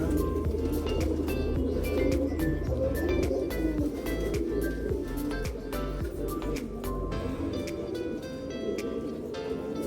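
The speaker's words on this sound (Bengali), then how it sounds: "মাশাআল্লাহ, অনেক সুন্দর একটা কবুতর" A khaki pigeon coos repeatedly in low rolling calls, close and clear, over a constant roar of background noise, with sharp chirps from other birds scattered throughout.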